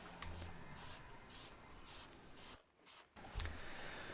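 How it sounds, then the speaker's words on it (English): Degreaser sprayed onto plastic car interior trim panels coated in sticky paint: a run of short aerosol hisses in uneven bursts, close and fairly loud, with brief pauses between them and no talking. "I'm gonna spray it on and I'm gonna leave it on for a couple of minutes"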